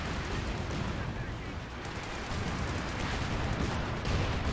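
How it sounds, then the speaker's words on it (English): A light artillery barrage in the video game Company of Heroes 2, a dense roll of distant booms and gunfire with no letup, heard under a commentator's voice. "Light artillery barrage running on in as well."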